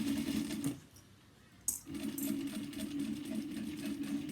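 A sewing machine back-stitches fabric for a handbag, its steady rapid whirring heard close and clear, pausing briefly with a small click before resuming the same even stitching rhythm.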